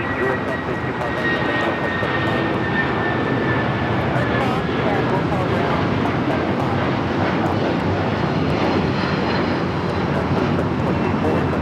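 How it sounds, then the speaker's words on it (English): A United Airlines Boeing 757-300 takes off from runway 25 right at LAX, its loud, steady jet engine roar filling the whole stretch without letup, with faint radio-style voices mixed in beneath. "This is United Airlines 2724 taking off to Denver on the 750-7300"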